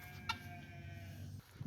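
Farm chickens cluck faintly and briefly during morning chores, a few soft near calls over quiet background noise.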